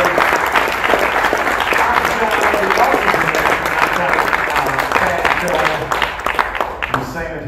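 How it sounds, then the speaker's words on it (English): A large convention audience at a PAX 2023 cast and crew panel breaks into loud, sustained applause. The dense clapping holds steady, then thins and tapers off near the end. "let's give everyone a massive round of applause here"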